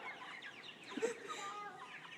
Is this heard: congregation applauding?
no